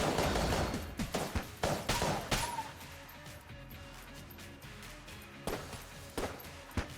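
Rad gun shots in Enter the Gungeon sound as a string of sharp, punchy blasts, loud at first and spaced irregularly, then a few more isolated shots later over a steady game music bed.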